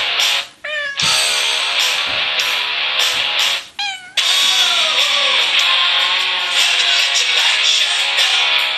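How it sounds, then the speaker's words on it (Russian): A cat yowls loudly and close up, a long run of wailing, wavering cries broken by a few short gaps. "Этот кот – явный фанат героя Тома Круза в фильме «Миссия невыполнима»"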